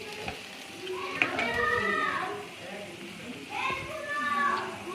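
Ginger and garlic fry in a pan with onions while haleem is being cooked, giving a soft, steady sizzle with the occasional stir, under a person talking throughout.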